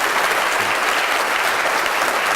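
A large audience gives a dense, steady roar of applause at a university debating society Q&A with physicist Kip Thorne, loud and continuous throughout with no pauses or voices.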